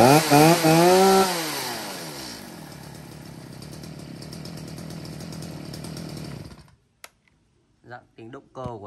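A STIHL 230 chainsaw revs loudly up and down at first, then settles into a steady idle for several seconds before cutting out, followed by a few faint clicks and handling noises.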